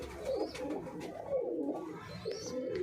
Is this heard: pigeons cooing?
yes